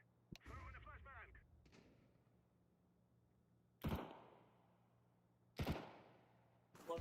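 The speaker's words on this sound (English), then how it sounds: "I'm throwing a flashbang." Flashbang grenades going off in Counter-Strike 2: two sharp, loud bangs a couple of seconds apart amid a match, with a speaking voice early on and a third burst cut off at the end.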